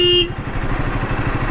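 A motorcycle riding on a highway, its engine rumbling loudly and steadily up close, with a brief horn toot at the very start and no talk.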